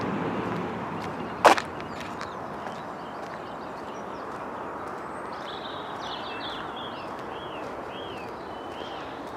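Faint birdsong drifts from the grounds outside a modern-style accommodation block at Trethorne. Thin, scattered chirps rise above a steady outdoor hush, and one sharp click comes early.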